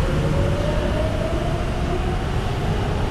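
Steady rumble of a train rolling along in a horror game called Ikenie no Yoru, a loud continuous rail drone with a faint tonal whine, no pauses and no voices.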